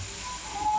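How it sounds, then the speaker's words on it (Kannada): Grated beetroot frying in a pan gives a steady, soft sizzling hiss throughout, close and unbroken. "ಬೀಟ್ರೋಟ್ ಹಾಕ್ಕೊಂಡು ಚೆನ್ನಾಗಿ ಫ್ರೈ ಮಾಡ್ಕೊಳ್ಳಿ"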